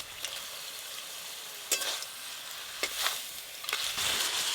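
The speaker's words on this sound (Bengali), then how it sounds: "এবার ইলিশ মাছের মাথাগুলো দিয়ে দেবো" Hilsa fish heads drop into a pan of water lily stew cooked down until nearly dry, giving a soft steady sizzle with a few sharp crackling bursts as the pieces hit the hot pan.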